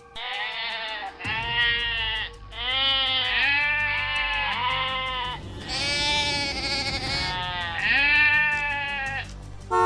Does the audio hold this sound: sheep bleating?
yes